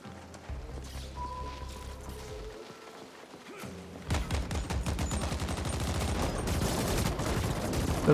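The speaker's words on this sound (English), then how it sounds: "I'm shooting at an innocent" Rapid automatic gunfire in the video game The Ascent erupts after a quieter mechanical stretch, a dense, rattling stream of close shots that keeps going, loud and steady, to the end.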